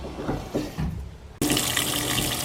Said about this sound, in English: it's starting to refill the tank now on the bulky items setting